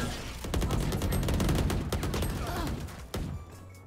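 Gunfire in the video game Valorant, a rapid burst of shots fired in quick succession for a few seconds, close and fairly loud, ending with a single sharper report.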